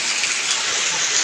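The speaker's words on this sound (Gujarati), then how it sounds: "વરસાદ ફૂલ ચાલુ થઈ ગયો છે" Heavy rain falling steadily during the monsoon in Gujarat, a dense continuous hiss of downpour that stays loud and even throughout, with no voices.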